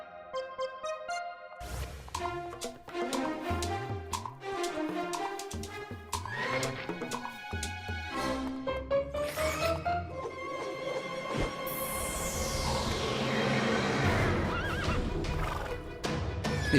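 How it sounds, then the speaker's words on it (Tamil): A wild horse neighs and whinnies loudly and repeatedly, close by, with hoof clip-clops and shuffling mixed in and background music throughout. "இது காட்டு குதிரை மாதிரி இருக்கு"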